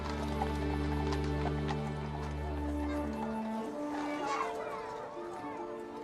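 Royal Mews horses clip-clop on hard ground while children chatter and call out nearby, the hoofbeats faint and mixed in with voices and a low steady hum that fades partway through.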